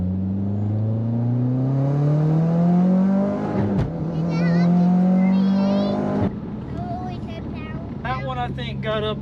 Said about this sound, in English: I'm not pressing it all the way down, Bubs, because we're kind of in the neighborhood